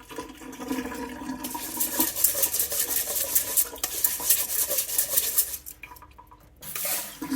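Sushi rice being washed by hand in a bowl of water, its third rinse: steady close swishing, sloshing and stirring of grains and water with soft clinks, continuous throughout with no talk.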